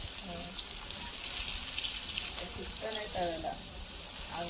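Scaled tamboshi fish fries in hot oil in a pan, a steady, low hiss of sizzling throughout, with faint voices talking over it.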